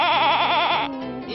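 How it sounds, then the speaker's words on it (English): A sheep bleats once, loud and close, a wavering vibrato cry that holds steady before dropping into a lower, shorter tail. "It's a sheep."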